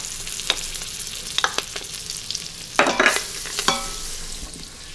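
About a tablespoon of butter melts in a hot Instant Pot set to saute, giving a quiet sizzle marked by several sharp spoon scrapes and clatters against the metal insert, close up and with no talking.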